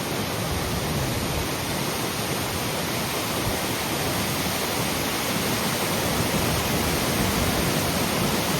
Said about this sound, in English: There were little small waterfalls all along here in the last 5 or 10 miles all along this road.